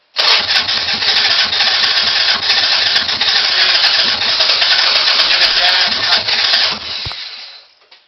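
Harley Sportster motorcycle engine with a freshly cleaned CV carburetor starting and running steadily, loud and close, then cutting off abruptly near the end.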